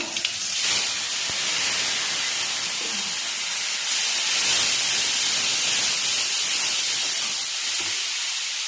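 Ginger and chili dropped into hot reddened tempering oil, a loud broad hissing sizzle that flares up at the start and holds steady and close for several seconds.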